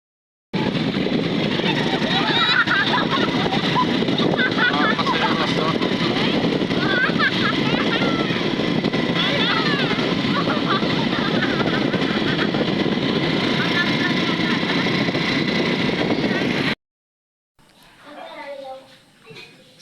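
A motorcycle without working lights rides home at dusk along a rural road, its engine a steady droning rumble for about sixteen seconds before cutting off, followed by a brief stretch of quiet talk.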